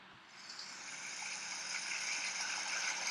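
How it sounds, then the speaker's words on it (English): Steady rain hissing continuously, a broad even wash that swells slightly louder as it goes on. "the rain will start, the crickets will start, but the rain won't go away"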